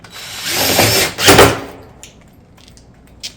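A screw driven through a barrel vault roof tile cap into a wooden 2x2, heard as a short loud burst of a power driver close by, then a few faint clicks.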